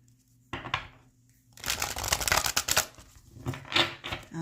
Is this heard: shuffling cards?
yes